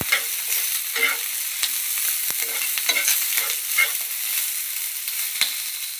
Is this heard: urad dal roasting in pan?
yes